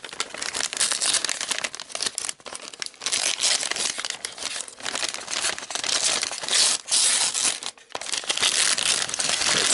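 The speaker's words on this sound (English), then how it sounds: "Really lovely wrapping paper." Gift wrapping paper is torn and crumpled open, loud crinkling and ripping bursts that continue almost without pause, with a few brief gaps.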